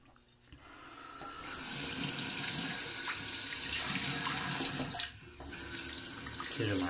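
Water runs steadily from a tap into a sink during a wet shave, a loud continuous splashing rush that briefly dips and then carries on.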